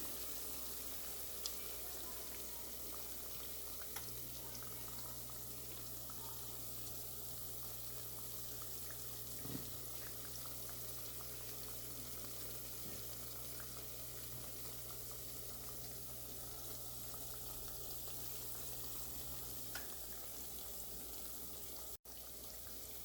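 Steady, soft sizzling of paneer frying in oil, a continuous hiss with faint crackles throughout and a low background hum.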